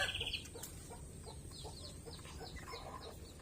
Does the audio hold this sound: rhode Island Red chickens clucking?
yes